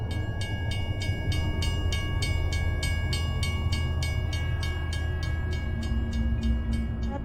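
A train rolls steadily along the tracks, a continuous low rumble with a regular clickety-clack of wheels over rail joints, close and fairly loud.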